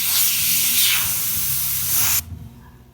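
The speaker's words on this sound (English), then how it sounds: "the fourth step is to just spray this out with some air." Compressed air blasting out a concrete expansion joint in a swimming pool, a loud, steady hiss close by that cuts off abruptly, leaving a brief quieter rustle.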